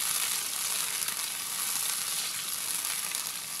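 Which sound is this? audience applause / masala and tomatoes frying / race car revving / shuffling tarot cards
masala and tomatoes frying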